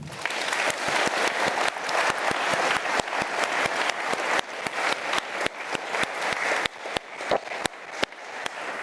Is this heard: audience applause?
yes